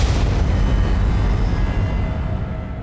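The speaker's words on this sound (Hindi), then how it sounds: "मैंने भी उस कमरे से गोली चलने की आवाज सुनी थी" A single loud gunshot boom opens, then rolls into a long, dull rumbling decay.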